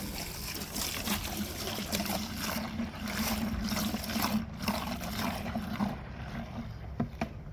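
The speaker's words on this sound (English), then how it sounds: "Now I just gotta fill that with water." Tap water running steadily into a bucket with Dawn dish soap to make soapy water for cleaning a two-stroke dirt bike, a continuous close splashing trickle with no talk.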